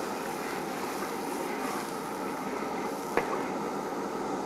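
Water is poured into a cooking pot for Sichuan-style braised cured pork trotters in a hotpot-base broth, making a steady, continuous rushing wash with a single small clunk near the end.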